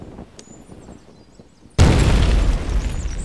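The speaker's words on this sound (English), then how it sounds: "And then we're gonna time it so he will blow up right on the bombs." Bombs blow up in Myth: The Wolf Age after quiet ambient stirring, one sudden loud booming blast followed by a sustained rumbling roar of debris.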